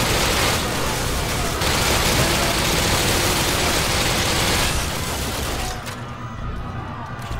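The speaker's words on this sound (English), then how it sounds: "Look, see, I'm shooting." Dense, continuous gunfire from the PC shooter Call of Duty: Modern Warfare 2, loud and sustained throughout with heavy low rumble, easing slightly near the end.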